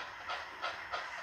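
Brewery freight train passing on rails, three soft rhythmic wheel clacks spaced evenly over a low hiss, faint and distant.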